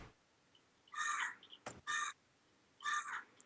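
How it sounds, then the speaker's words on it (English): Crows caw harshly in three loud, close bursts over a quiet background, with a short sharp knock between the second and third calls. "The squawking of birds."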